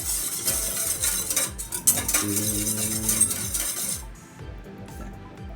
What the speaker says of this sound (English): it's easier for me to mix it using a whisk